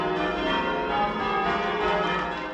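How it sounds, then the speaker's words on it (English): Heavy church tower bells ring continuously in a dense, overlapping peal, their struck tones blending into a steady, full wash of sound with no voices. "you're ringing the heaviest bell in the tower"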